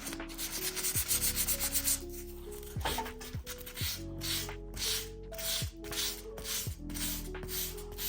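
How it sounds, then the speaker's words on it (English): Sandpaper is rubbed by hand over filled nail holes in a bedroom ceiling, making a close, steady scratchy swishing in repeated back-and-forth strokes with no voices. "So I take my sandpaper and I just go like this."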